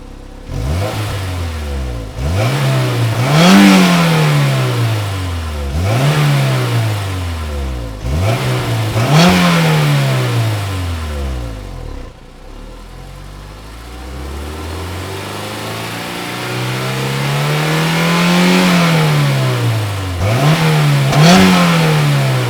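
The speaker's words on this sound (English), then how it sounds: "Very nice sounding engine." A 2000 Honda S2000 AP1 engine revs repeatedly and loudly nearby, rising and falling in sharp throttle blips about every two seconds, then settling into one longer, smoother rev and fall, with no talk over it.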